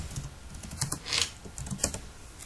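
Typing on a computer keyboard, close and fairly quiet: a loose run of soft clicks and taps, a few a little sharper, with no voices.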